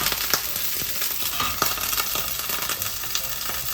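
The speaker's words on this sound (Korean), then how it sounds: "올리브오일에 마늘을 좀 넣고, 마늘을 좋아하니까 그걸 좀 넣고 할 건데" Garlic sizzles and crackles in hot olive oil in a pan, a steady bright frying hiss with small stirring clicks, close and alone with no voices.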